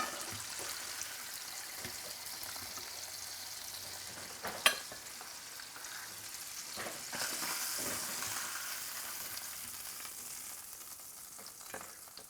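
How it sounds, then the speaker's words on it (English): Fish fillets sizzle steadily in a hot pan, a continuous close frying hiss with a brief sharp clink near the middle and no voices. "These fish fillets are only going to take a couple of minutes to cook on each side."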